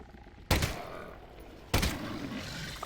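Two loud gunshots fired at barnacle creatures in the VR game Half-Life: Alyx, each a sharp close blast with a short decaying tail, spaced about a second apart.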